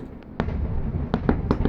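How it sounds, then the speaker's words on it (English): Mackinac Island fireworks launched from a barge offshore, heard from the dock as a string of sharp pops and bangs at irregular intervals over a low, steady rumble. "Awesome seats for the Mackinac Island fireworks."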